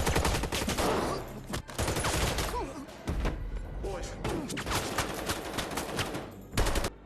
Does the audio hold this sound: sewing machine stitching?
no